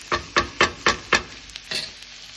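Chicken, cabbage and basil stir-frying in a pan, five quick rhythmic bursts of tossing sizzle in a row, then a quieter stir and a final softer burst, close and loud, with no talking.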